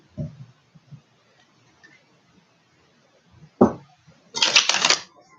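Two bursts of tarot card shuffling: a short riffle, then a longer, brighter flurry of crisp slaps near the end, with quiet soft handling in between.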